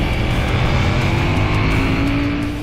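A 2021 KTM Duke 890 motorcycle with its LC8C twin engine pulling hard, a loud, steady drone that holds close throughout and eases off slightly at the very end, with nothing else over it.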